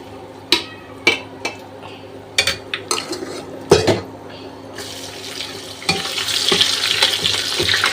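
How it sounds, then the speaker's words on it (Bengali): Onions for birista are stirred in a hot pan with a metal spoon: several sharp scrapes and clinks come first, then a steady, rising sizzle of frying fills the second half, close and fairly loud. "একবারে বেরেস্তা করে নিচ্ছি"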